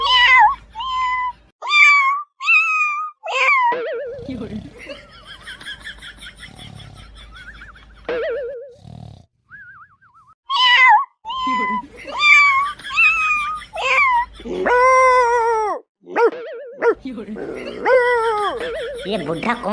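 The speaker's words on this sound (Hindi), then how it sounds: "यहाँ बिल्ली कहाँ से आ गई यार?" Repeated loud, close meows in bursts, some drawn out and wailing, with short pauses between them.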